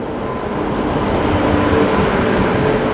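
Azad Hind Express on Indian Railways running just after leaving Durg Junction, a steady, loud rolling rumble and rattle of the moving train throughout, with no voices.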